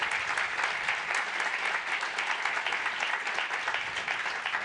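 Steady, dense applause from a large audience at an awards ceremony, loud and continuous throughout with no break.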